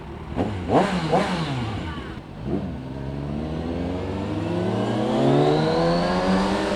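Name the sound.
Kawasaki Ninja 1000SX motorcycle engine revving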